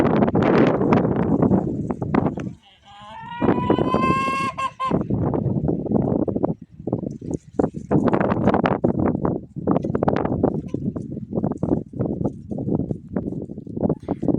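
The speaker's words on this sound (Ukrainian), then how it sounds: "Ось погода в нас зараз зіпсувалася. Зійнявся вітер" Gusty winter wind on a farm buffets the microphone in a loud, continuous roar, with a goose honking briefly partway through.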